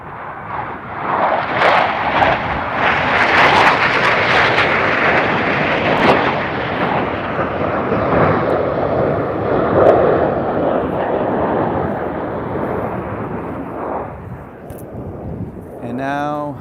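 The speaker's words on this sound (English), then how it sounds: "let's just watch the Blue Angels do their thing for one last time" Blue Angels jets roaring past at the Oshkosh airshow, a loud sustained broadband rumble swelling and fading over the whole stretch, with wind buffeting the microphone.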